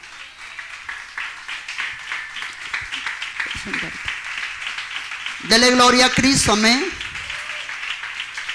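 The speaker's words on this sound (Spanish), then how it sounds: "Dele un aplauso al Señor." A church congregation applauds during a sermon, a continuous hiss of clapping running beneath a preacher's voice, with a louder sung or shouted passage rising briefly past the middle.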